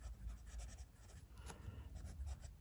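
Broad steel Yovo nib on a Franklin Christoph Model 31 Omnis fountain pen scratching softly across Clairefontaine paper, a faint continuous rub with small strokes, close and quiet, with no talk.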